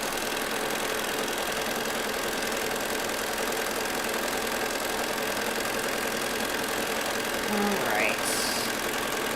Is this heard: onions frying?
no